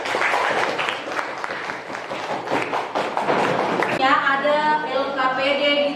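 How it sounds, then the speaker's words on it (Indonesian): Students in a geography class applaud a classmate group, a dense burst of clapping with cheering voices that grows livelier toward the end. "silakan beri aplaus dulu untuk kelompok kinestetik"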